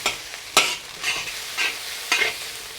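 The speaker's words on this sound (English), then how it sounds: "Mix them up very well." Nasi goreng rice with Indonesian sweet soy sauce is stir-fried in a hot pan, a spatula scraping in a few distinct strokes spaced about half a second apart over a steady sizzle, close up.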